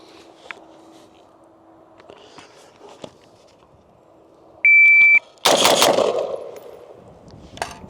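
Shots at a shooting range target: a shot-timer beep, then a loud burst of rapid gunfire lasting over a second, close and sharp, with a faint single report near the end.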